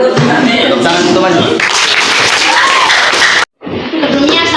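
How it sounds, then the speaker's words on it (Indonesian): Classmates applaud in a junior high school session on discipline, a dense, steady wash of clapping mixed with chatter that runs loud for several seconds, breaks off briefly, then resumes. "Tepuk tangan teman"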